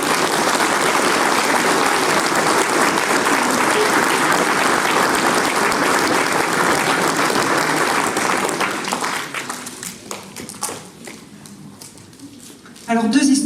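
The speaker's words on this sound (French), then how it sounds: "je voudrais quand même les applaudir et qu'on les applaudisse tous pour eux." Sustained applause from an audience at a speech event honouring a campaign team of volunteers and staff, dense and loud for about eight seconds before thinning into scattered claps and fading.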